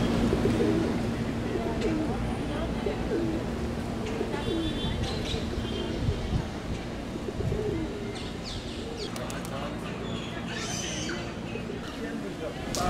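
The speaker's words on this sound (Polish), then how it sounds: "ale miejscowe ptaki śpiewają sobie" Pigeons coo and small local birds chirp in a town square in Tampico, Mexico, with steady calls and tweets over a continuous bed of outdoor ambience for the whole stretch.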